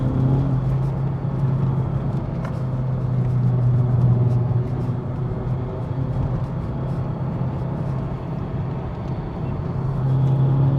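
Honda Civic Type R GT FK2, a 306 bhp VTEC turbo hatchback, driven in normal mode on a bumpy road, giving a steady low engine drone and road rumble that runs throughout with no talk.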